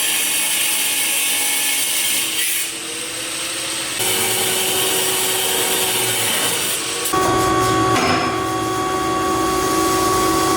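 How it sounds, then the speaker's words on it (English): An angle grinder with a flap disc grinds a metal tubing stub off a car body, producing a loud continuous abrasive whine that shifts in pitch as the pressure changes, with no talking. "now I have to grind this little stub off so that we can do, in the future we can do another one"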